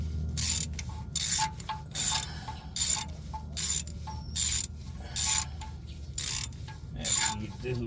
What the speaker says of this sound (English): Get your ratchet back on there. I'm using the full extension.